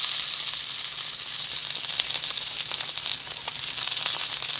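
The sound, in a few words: skin frying and sizzling in pan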